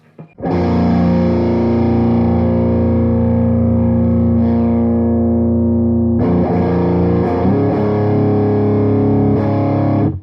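Loud electric guitar chords through a Fulltone OCD overdrive pedal ring out with thick, gritty distortion, held for several seconds, then struck again and sustained.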